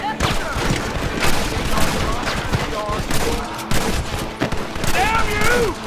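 Gunfire in the Red Dead Redemption video game, a dense running fusillade of overlapping shots and booms that continues throughout the clip, with shouting voices mixed in.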